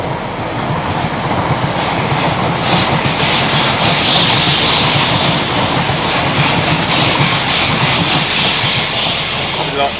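A train rumbles past close to canal moorings, a loud, steady roar of wheels on rails with clattering and faint squeal, holding for the whole stretch with no break.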